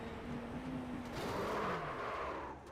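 Onboard engine note of the ProTech Porsche race car at Le Mans in a racing video game, a steady rising and falling drone with a brief shift in pitch, loud and continuous, no talking.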